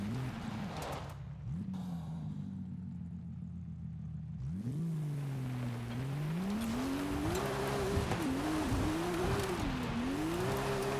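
A Ford F450 truck drifts in Forza Horizon 5, its engine droning steadily and then rising and wavering in pitch as it revs, with continuous tire noise underneath, loud and close, with no talk over it.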